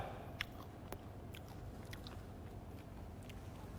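Roasted soybeans being chewed close to the mic, a soft, steady crunching with a few sharper bites standing out against a quiet background.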